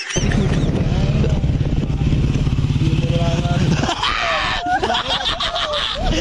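A loud, rumbling motorcycle engine idles and revs close by for about four seconds, then gives way to excited voices and shouts.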